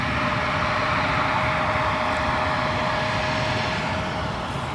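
A Delta airliner taking off from runway 17 at Minneapolis–St. Paul Airport, its jet engines giving a loud, steady roar with a faint high whine running through it, unbroken throughout.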